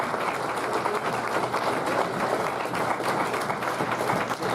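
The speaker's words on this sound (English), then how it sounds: "So give them all a round of applause" Steady applause from a crowd at a junior B lacrosse draft, a continuous wash of many hands clapping at moderate loudness, with no voices standing out.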